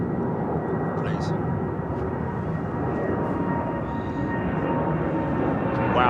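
Qatar Airways Airbus A380 departing London Heathrow, a steady loud broadband jet roar that holds for the whole stretch, with faint voices beneath.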